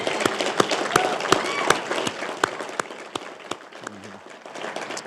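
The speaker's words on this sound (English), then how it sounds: "give you a round of applause" An audience gives a round of applause at a ceremony marking girls' flag football becoming an official high school sport in Illinois, with loud individual claps over a softer crowd wash and some voices mixed in.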